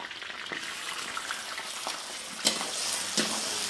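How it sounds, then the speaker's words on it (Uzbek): Meat sizzling and frying with onions in a pot, a steady crackling hiss with a few sharp spatters and stirring scrapes, close and alone without talk. "Piyozni shu rangida go'shtimizni tashlaymiz."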